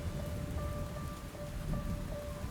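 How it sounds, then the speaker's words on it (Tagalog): Heavy rain pours down in a dense, steady hiss and patter, close and constant with no voices. "talagang napakalakas ng ulan at maging ang bukso ng hangin"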